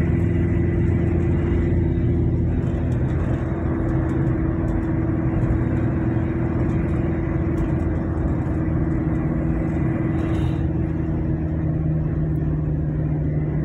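A Toyota Kijang LGX diesel car tuned with Blackcore tuning accelerates through gears, giving a loud, steady, close diesel engine drone and rumble that fills the whole stretch with little change in pitch.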